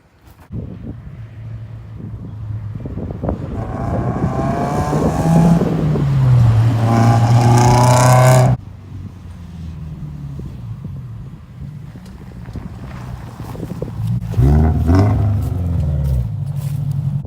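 A Subaru FR-S fitted with UEL headers accelerates past, its engine rising in pitch through the gears with heavy wind buffeting the microphone, then dropping away before another car drone approaches.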